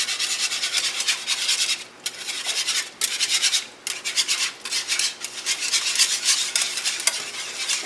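A whisk beats gravy in the same pan used for the meat and vegetables of Salisbury hamburger steak, giving continuous rhythmic scraping and swishing strokes that are close and clear, with no talking.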